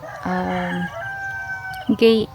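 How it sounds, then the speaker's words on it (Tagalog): A rooster crows loudly and close at a poultry farm, followed by a short burst of clucking and squawking from chickens nearby. "Ayan, madaming mga manok dyan."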